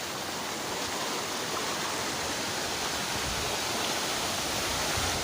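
Curug Sawer, a waterfall in Serang, Banten, pours steadily with a dense, continuous roar of rushing water, close and even throughout; no talking.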